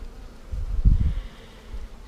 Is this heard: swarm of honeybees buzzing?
yes